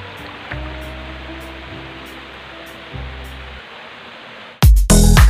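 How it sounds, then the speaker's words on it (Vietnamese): The Ta Re stream flows with a steady broadband rushing hiss, broken by low rumbling thumps from handling nearby, then ends in a burst of loud close splashing and crackle. "Đây là một bờ đê ở suối Tà Rê các bạn."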